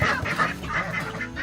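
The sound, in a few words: ducks being herded in for the night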